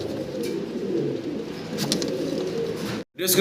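A pair of Modena pigeons coo softly and repeatedly nearby, low throaty calls layered over a gentle background with brief rustles.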